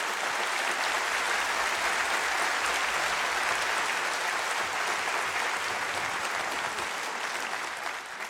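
A congregation at a celebration gathering at Unity World Headquarters applauds in a dense, steady roar of clapping that holds for the whole stretch before easing slightly at the end.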